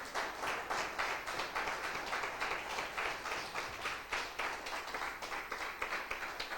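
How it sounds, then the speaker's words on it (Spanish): A church congregation claps steadily in a regular rhythm, a fairly faint and even patter of many hands that continues throughout with no voices over it. "¿Por qué no le da un aplauso"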